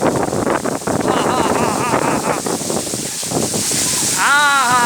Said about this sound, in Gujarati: પવન સાથે અતિ ભારે પવન પણ ફૂંકાઈ રહ્યો છે.